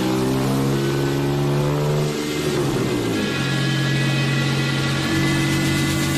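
A Scorpion car engine revs hard and steadily on a dynamometer during power testing, loud and close, its pitch dipping briefly before climbing back to a sustained high drone.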